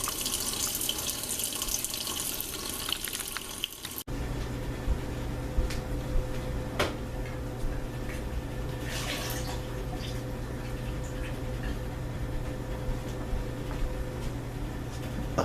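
A kitchen tap runs steadily while Dungeness crab is rinsed under it, the flow shifting abruptly after a few seconds and continuing as a constant splashing stream with occasional louder clatters and knocks.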